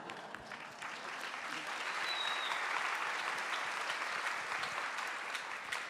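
Audience applause after a poem reading at a literary talk event, steady dense clapping from a crowd that swells slightly and holds throughout, no voices on top.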